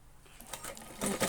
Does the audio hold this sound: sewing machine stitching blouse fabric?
yes